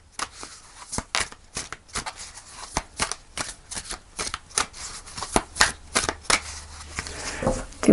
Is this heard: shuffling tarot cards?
yes